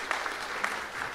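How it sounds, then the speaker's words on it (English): Audience applause at a hacker conference village, a short burst of many hands clapping in a crowd, steady and fairly close. "Claps"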